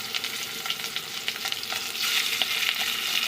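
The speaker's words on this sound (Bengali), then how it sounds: "এবার হালকা করে ভেজে নেব। মাছগুলো দিয়ে দিচ্ছি" Fish rubbed with salt and turmeric fries in hot mustard oil in a wok, a steady close crackling sizzle with small pops and spatters throughout, no voices.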